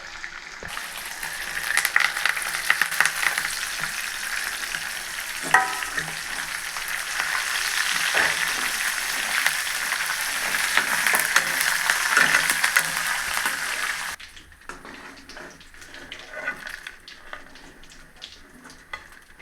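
Chicken fries in hot oil with a loud, steady, close sizzle and occasional stirring clinks. The sizzle drops away abruptly toward the end, leaving quieter background sound.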